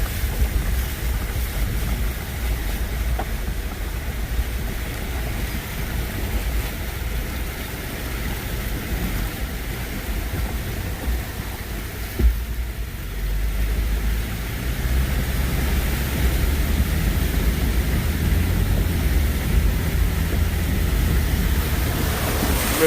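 A Toyota 4Runner SUV pushes through flash flood water near a river, with a steady rush and wash of water and a low engine rumble under wind buffeting the microphone, growing slightly heavier toward the end.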